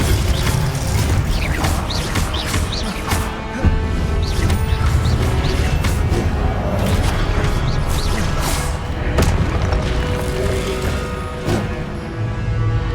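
Spells like Confringo and Glacius cast in rapid succession in Hogwarts Legacy, a dense run of crackling blasts, clanks and crashing impacts over a constant loud bed of game noise.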